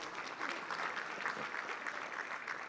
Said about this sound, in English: We can clap for ourselves.